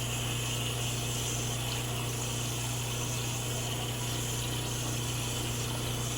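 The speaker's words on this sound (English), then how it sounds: "just kind of work it in with your fingers to get all of this water-soluble stabilizer out" A knitted scarf is worked by hand in water to rinse out water-soluble stabilizer, giving a steady, continuous wash of running and sloshing water at close range with no talking.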